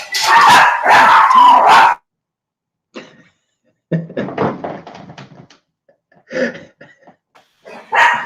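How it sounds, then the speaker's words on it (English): Several dogs at home barking in loud, close bursts for the first two seconds, then scattered shorter yips and barks with gaps of quiet between them. "I got 3 dogs today. They want some attention, man."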